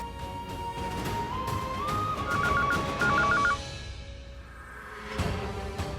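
A landline telephone being dialed, with short keypad beeps in two quick clusters over a steady dramatic background score, followed by fading ambience.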